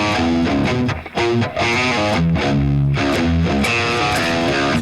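Distorted electric guitar riff from a song, played as a dense, driving run of chugging notes with a couple of brief dips, loud and alone throughout.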